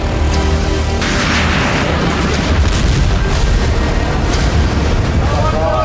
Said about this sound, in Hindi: इजरायली बमबारी से सीरिया की धरती इस समय बुरी तरह से जल रही है